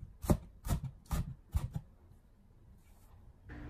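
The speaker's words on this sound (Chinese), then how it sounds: "再将其改刀切成葱花。" A knife chops scallion whites into chopped green onion on a cutting board, four firm close chops in a quick even rhythm, then a quiet pause.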